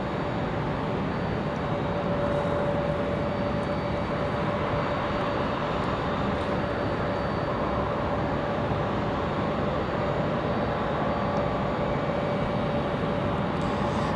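Airliners at Raleigh-Durham International Airport produce a continuous broadband jet roar with a steady engine tone, loud and unbroken throughout, no talking.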